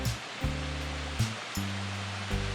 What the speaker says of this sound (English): we found more waterfalls